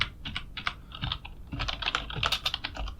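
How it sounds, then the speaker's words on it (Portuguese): Steady clicking of keys on a computer keyboard as a short search term is typed, a quick uneven patter of taps, close and fairly quiet with no talking. "eu vou digitar aqui lutas"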